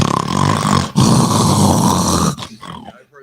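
A man imitates loud snoring with his voice, producing two long rasping, snorting breaths separated by a short pause, then a fading tail, heard up close with no other talk.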